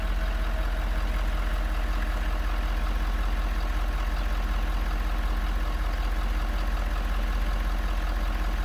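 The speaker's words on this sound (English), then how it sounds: "I love the sound of that diesel." Diesel truck engine idling smoothly and steadily after a FASS lift pump install, with no miss; a constant low rumble runs close and even throughout, alone, with no talk.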